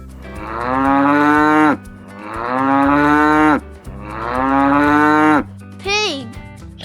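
A cow gives three long, loud, close moos in a row, each held for nearly two seconds, followed by a shorter rising call, with no voices over it.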